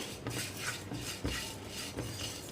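Rice is stirred and roasted in a pan over a medium-to-high flame, giving soft, repeated scraping strokes of a spoon against the pan at a fairly even rhythm, quiet and close.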